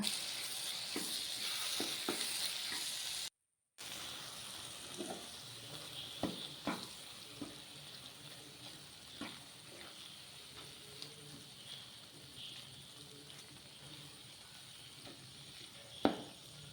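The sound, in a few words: stirring fried prawns into sizzling biryani masala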